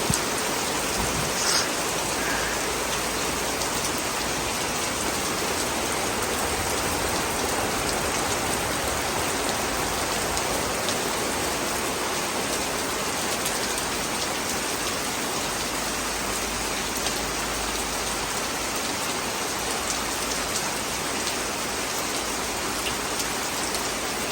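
Heavy rain pours steadily during a trip to Gokarna, a dense, even hiss of drops on surfaces that stays loud and unbroken throughout with no voices.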